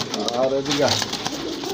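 Pigeons coo close by in soft, throaty bursts while someone talks over them.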